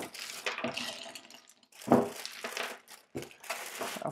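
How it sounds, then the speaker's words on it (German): Ice cubes are tipped by the handful into a bag holding homemade watermelon sorbet, giving bursts of rattling, crinkling plastic and clattering ice in several separate close, loud clusters with short pauses between. "zu dem Sorbet in der Tüte haut ihr nun haufenweise Eiswürfel"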